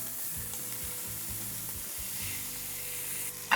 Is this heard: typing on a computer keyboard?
no